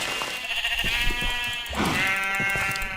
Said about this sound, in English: Some sheep.